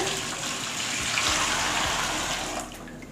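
Tap water gushes steadily into a container while being measured out for homemade liquid detergent, a continuous close splashing flow that eases off near the end.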